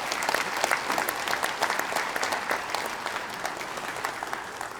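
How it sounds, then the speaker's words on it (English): Graduates and guests at an MIT graduation ceremony applaud a welcoming performance group, a broad crowd of steady clapping that holds strong, then eases slightly near the end, with no speech over it. "I think they deserve a round of applause."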